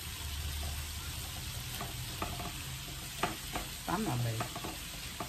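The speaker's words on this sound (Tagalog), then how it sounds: "nagigisa po ako ng kamatis, tapos lalagyan ko sibuyas, then itlog" Tomatoes sauté in a pan with a soft sizzle, and a spoon stirs and scrapes the pan in scattered clicks. A brief voice speaks over the cooking near the end.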